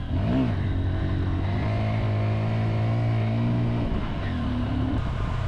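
A motorbike engine revs hard during a wheelie on a mountain road loop in Vietnam, the pitch climbing and holding in a sustained close whine before easing off.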